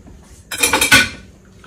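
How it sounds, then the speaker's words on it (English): Smoked sausages drop back into a pot of sauerkraut, potatoes and apples with a quick clatter of metal and utensil clinks, two close bright knocks in a moment of near quiet. "So now I'm just going to put this back in, the sausages"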